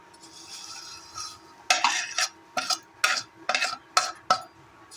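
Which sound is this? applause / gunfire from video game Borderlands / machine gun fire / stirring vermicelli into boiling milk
stirring vermicelli into boiling milk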